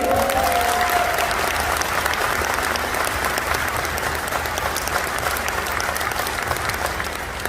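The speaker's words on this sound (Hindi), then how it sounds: "तो एक बार जोरदार तालियां हो सकती है तरुण भाई के लिए" A large audience at a network marketing seminar breaks into loud, sustained applause that holds steady for the whole stretch, with a few voices briefly audible at the start.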